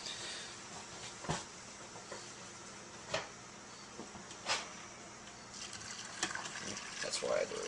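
Hot brine poured from a container into a pickling jar, away from the sink, makes a steady watery rush with a few sharp clunks and splashes, fairly close, with no talking.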